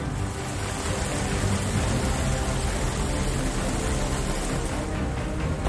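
Heavy rain pours steadily in Fatehabad, a dense unbroken hiss of downpour that stays loud and even from start to finish, with no voices over it.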